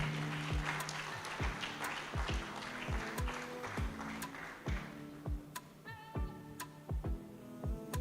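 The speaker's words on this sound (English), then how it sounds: "Can we clap some more for him?" Applause from the audience at an award dinner night runs under rhythmic music with thumping beats, the clapping thinning out as chiming tones take over.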